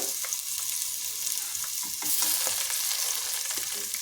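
Ginger garlic paste fries with eggplant, onions and spices in oil, a moderate steady sizzle with light, irregular clicks and scrapes of stirring throughout.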